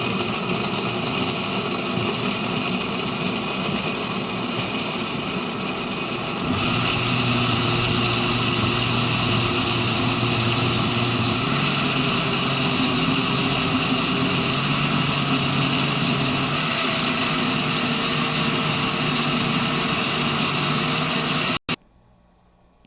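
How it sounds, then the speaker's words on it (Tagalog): A blender blending fruit and water gives a steady, loud motorized whirring that runs continuously for about twenty seconds, its pitch dropping and thickening partway through, then cuts off abruptly near the end. "blender na natin siya"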